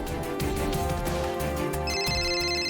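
A telephone rings briefly over a steady background of music or noise, its tone rising into a sustained electronic ring near the end.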